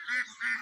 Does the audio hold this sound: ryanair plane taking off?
no